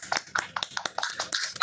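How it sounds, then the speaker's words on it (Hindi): An audience clapping to welcome a guest at a women's event, a sparse, uneven run of individual claps, fairly close and moderately loud, with no talk over them. "I'm clapping. So let's clap. Let's all clap."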